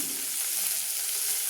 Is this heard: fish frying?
yes